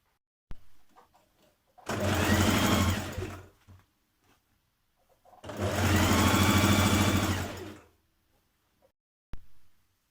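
A sewing machine stitches lining skirt pieces for a Simplicity 8330 occasion dress in two loud, steady runs of a few seconds each, separated by quiet pauses with faint handling clicks.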